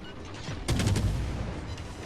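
Ship guns fire in a naval battle video game, a cluster of rapid booming shots over a constant rumbling background, moderately loud and at mid distance.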